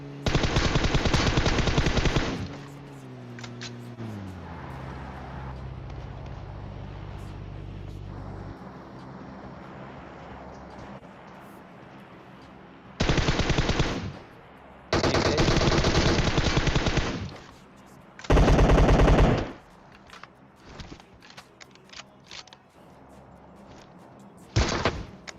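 Bursts of loud automatic gunfire from the mobile battle-royale game PUBG Mobile come in several dense volleys separated by quieter stretches of engine-like hum and faint game ambience, with no talk.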